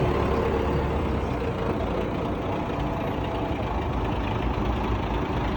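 A Belarus tractor engine runs steadily, a continuous low diesel rumble with dense broadband noise and no pauses, heard close and alone.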